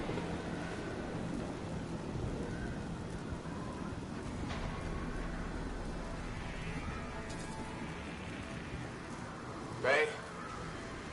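The Anthem video game's cataclysmic Heart of Rage storm churns as a constant wind-and-rain roar with low thunder rumbles, then a sharp crackling thunder strike near the end, with voices mixed in.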